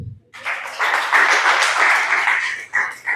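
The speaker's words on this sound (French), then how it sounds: "Applaudissez-le même." A church congregation applauds during a deliverance service, with dense, steady clapping that swells in after a brief pause and holds close and loud throughout.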